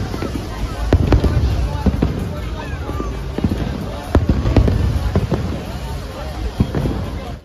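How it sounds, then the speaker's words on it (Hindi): Fireworks burst continuously at Global Village in Dubai during a national day celebration, sharp cracks and booms popping over a dense crowd murmur while a person talks nearby. "और ये फायर वर्क हो रहे हैं।"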